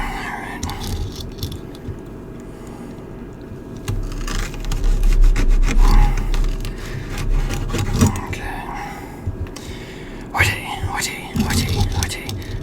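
Gumdrop candies being sliced at home, giving a sticky, rasping, saw-like rubbing that comes and goes in strokes, with murmured voices and kitchen movement throughout.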